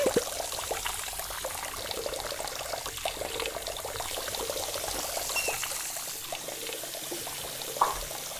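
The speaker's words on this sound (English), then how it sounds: "Believe all those sinks are running." Water runs steadily from several sinks at once, a continuous mid-level rush and trickle that holds through the whole stretch without voices.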